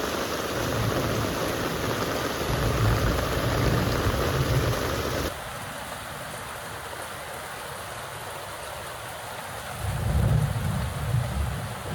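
Heavy rain pours down after six hours of downpour, a dense, steady hiss of drops hitting surfaces that drops abruptly to a quieter wash midway, then swells again near the end.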